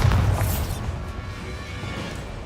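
The Bombarda explosion spell in Hogwarts Legacy sets off a deep, loud boom that fades into a lingering rumble.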